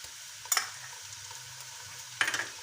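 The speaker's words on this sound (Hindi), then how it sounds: "इसको हम 2 से 3 मिनट बिल्कुल स्लो फ्लेम पे फ्राई करेंगे ताकि जो इसकी स्मेल है वो ख़त्म हो जाए।" Onions fried to golden with a spoonful of ginger-garlic paste over a slow flame give a steady low sizzle, broken by two sharp stirring scrapes near the start and end.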